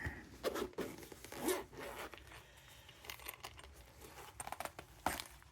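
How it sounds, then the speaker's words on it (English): A zipper on a padded watch case is pulled in several short, quick runs, close up and fairly quiet, with brief pauses and a few small clicks and rustles between. "And we have a zipper."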